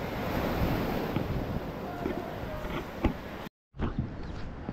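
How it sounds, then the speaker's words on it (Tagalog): Big ocean waves wash and roar continuously onto a beach, with broad wind-blown surf noise filling the clip and a brief cut near the end. "Malaki nga yung alon"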